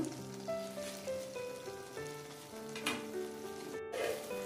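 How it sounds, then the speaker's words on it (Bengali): Spices sizzle steadily in hot mustard oil in a home kitchen while lau chingri is cooked, a soft continuous frying crackle with a few brief louder spits and the occasional clink of a utensil. "রান্নাটা পুরো আমি সর্ষের তেলে করছি। এটাকে ভালো করে আমি একটু কষিয়ে নেব।"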